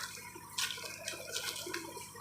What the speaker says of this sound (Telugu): స్ప్రే చేయడం జరుగుతున్నది.